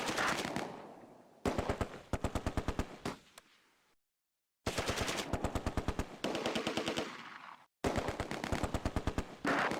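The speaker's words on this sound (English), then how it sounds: "Under heavy fire." Heavy gunfire in the Close Combat: A Bridge Too Far video game, rendered as loud, rapid machine-gun bursts in several long volleys, separated by brief silent gaps.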